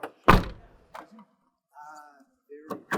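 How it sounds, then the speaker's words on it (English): A truck cab door swings shut with one loud, close thunk, followed by lighter clunks and brief sounds of someone speaking. "Close this door."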